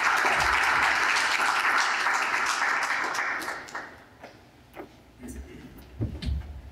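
An audience at SCI-Arc gives dense, loud applause welcoming the speaker Alper, a steady wash of clapping that thins out after a few seconds into scattered claps and small taps.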